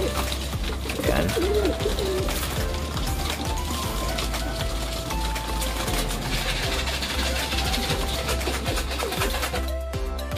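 Pigeons coo repeatedly at close range over a steady low background hum while being given drinking water, the soft rolling calls rising and falling throughout.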